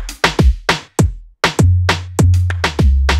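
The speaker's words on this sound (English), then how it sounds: "So this frequency here, you can hear it's really affecting our kick right now." Punchy kick drum hits run through Ableton Drum Buss with its resonant filter set around 90 Hz, a booming low tone ringing under each beat so it sounds almost like a tom; loud and close, played alone in an uneven groove.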